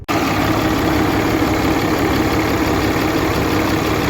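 A 2013 Cummins diesel truck engine idles steadily close by, a loud, continuous low rumble with a faint high whine running through it and no talk over it.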